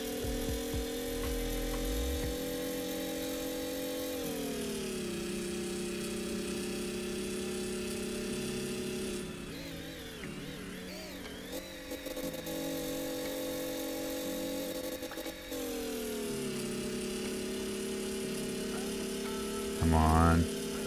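A built supercar engine in the GearBlocks game revving hard, a steady loud droning whine that climbs in pitch and drops sharply at each gear shift, several shifts over the run, with a voice talking over it near the end.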